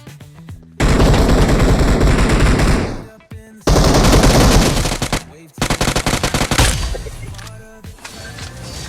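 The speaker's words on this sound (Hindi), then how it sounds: "पीछे वाले घर से काफ़ी ज़्यादा गोलियों की आवाज़ आ रही होती है" Heavy automatic gunfire in the BGMI battle royale game, coming from a house behind the player: long loud sustained bursts of rapid shots separated by brief gaps, the last burst breaking into more spaced, stuttering shots.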